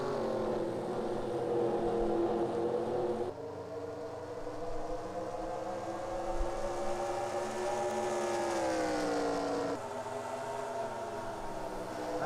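Race cars lapping at Phoenix in the SIGMA IROC 100, a loud sustained engine drone with pitch swelling and falling as the pack accelerates and passes, steady for several seconds without talk.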